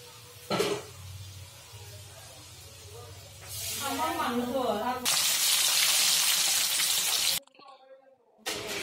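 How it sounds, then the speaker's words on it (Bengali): Karish fish fries in a pan, with bursts of loud hissing sizzle that swell and cut out, mixed with a voice talking and some clattering. "এভাবে সবগুলো মাছ ভাজি করে নেব"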